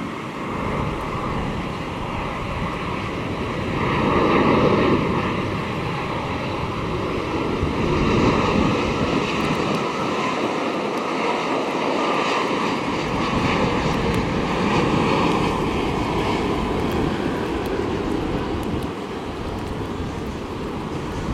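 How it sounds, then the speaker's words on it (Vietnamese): A Boeing 787 lands on runway 25R in the rain, its engine roar heard from a distance as a sustained whooshing drone that swells, then eases toward the end, over a steady wash of rain. "mời mọi người chiêm ngưỡng hạ cánh của chiếc Boeing 787 này xuống đường băng 25 phải"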